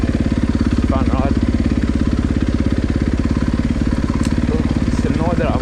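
Enduro dirt bike engine running loud and steady with a fast, even pulse on a muddy, rainy ride, close to the rider throughout, with brief faint chatter over it.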